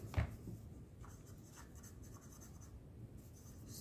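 A pen scratches steadily across paper while a solution for an x-coordinate is worked out in a math lesson, a continuous close-up rustle of writing with a soft knock near the start.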